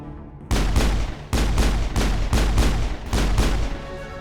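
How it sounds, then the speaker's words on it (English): Repeated gunfire strikes the player in the video game Mass Effect, loud and close, in dense bursts separated by short gaps, with no talking. "Just stand there and get shot repeatedly."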